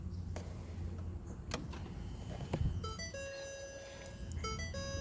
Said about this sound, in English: first we need to turn on the ignition